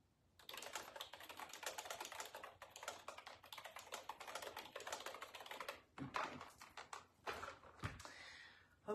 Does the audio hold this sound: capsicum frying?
no